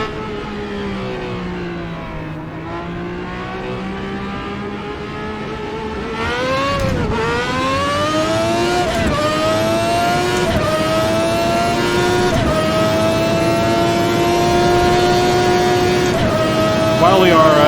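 A 1991 Formula 1 car engine lapping the old Imola circuit, loud and close, with a high screaming note that dips on a downshift around six seconds and then climbs steadily through the gears; speech is faint underneath.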